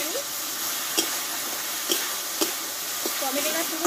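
Spice masala with tomato sizzling and frying in a pan for a fish curry, a steady loud hiss with several sharp scrapes of a spoon stirring at irregular intervals, close up.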